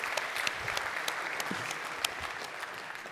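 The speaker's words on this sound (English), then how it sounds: "Pause for applause." An audience at the Unity engine roadmap presentation applauds for about three seconds, a dense steady patter of clapping with no voices over it.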